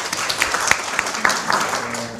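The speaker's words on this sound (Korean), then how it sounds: "예, 박수로 김성호 선생님 맞이해 주십시오" Audience applause welcoming a speaker at a symposium on the solidarity economy, a short burst of scattered hand claps heard close, with no talk over it.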